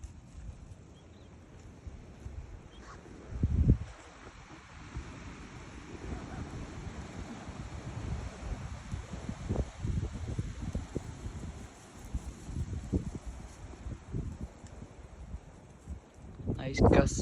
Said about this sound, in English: Good wind out here.